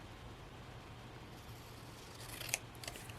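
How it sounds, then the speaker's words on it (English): Scissors make a single quick cut diagonally across paper, a faint short snip near the end against quiet background hiss, with no talking. "I am going to cut this diagonally from corner to corner."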